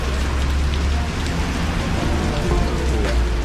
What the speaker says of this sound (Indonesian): Tapi sekarang masalahnya hujan deras lebat dari tadi.